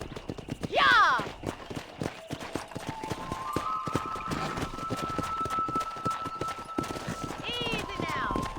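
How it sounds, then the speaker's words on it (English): Horse hooves clip-clop steadily in a Wild West setting in the Red Dead Redemption video game, a continuous rhythmic trotting at moderate distance beneath people talking and a sustained musical tone. "Control that horse, will ya?"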